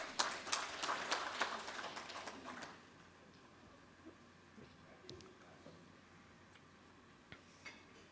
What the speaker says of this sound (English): Please have a huge round of claps for them.